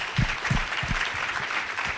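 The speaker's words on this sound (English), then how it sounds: "Yes, please, round of applause." Audience applause at a startup event in Japan, a brief burst of clapping with a few distinct nearby claps standing out in the first half before settling into a steady patter.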